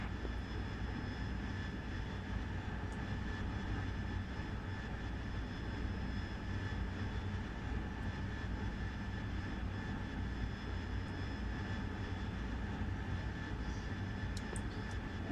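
A fighter jet from an air force fighter wing roars continuously during its runway takeoff and climb, a steady heavy engine rumble with high whine, heard evenly throughout with no talking.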